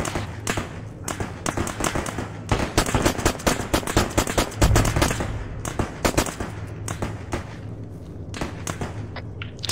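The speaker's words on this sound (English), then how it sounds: "Sounds like shots from the north as well." Rapid gunfire in Arma 3 during a US special forces airfield assault, dense bursts of shots and thuds, near and far, crackling steadily for the whole stretch with a heavy peak midway.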